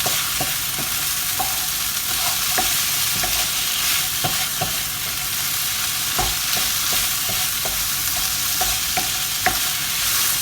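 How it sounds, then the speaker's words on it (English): Spiced okra curry being stirred in a pan, a constant hissing sizzle under repeated crisp clicks and scrapes of a utensil against the metal, close and fairly loud, with no talking. "And you basically stir it in."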